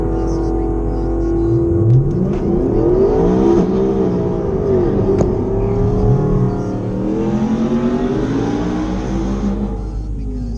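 A race car accelerates hard down a drag strip during a second pass at a speed-week event, its engine revving and climbing in pitch through the gears, loud and close, with a steady roar throughout.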